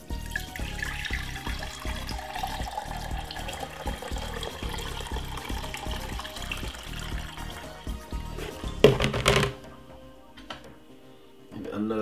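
Homemade Jamaican ginger beer is poured back over the mix in a steady, close liquid stream, with a louder splash near the end before it tails off into quiet.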